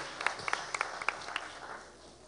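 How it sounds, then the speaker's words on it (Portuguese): A church congregation at a prophetic apostolic congress claps briefly, a faint, thin scatter of hand claps that fades out within a couple of seconds. "Vamos aplaudir o Senhor pela vida do pastor Henrique Lobo"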